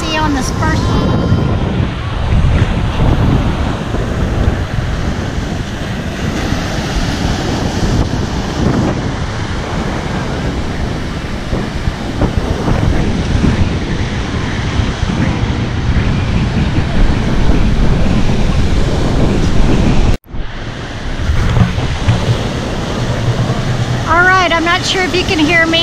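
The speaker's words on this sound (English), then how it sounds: "if you can hear me with the waves and the wind." Ocean waves and strong wind on a beach at low tide, a loud continuous roar of surf with heavy wind buffeting the microphone, briefly cutting out near the end.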